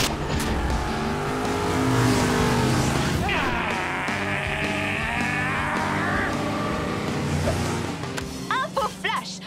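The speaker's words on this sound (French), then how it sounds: "La plus grande course-poursuite de toute l'histoire de Hot Wheels City vient de commencer!" Toy race cars in a Hot Wheels cartoon chase, with engines revving and whining and a long rising tire squeal. Music and voices blend in, and everything stays loud and close throughout.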